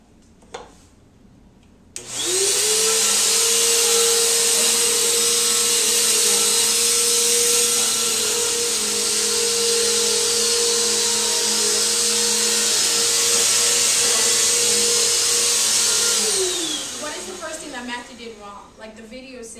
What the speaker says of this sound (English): Show us how you vacuum.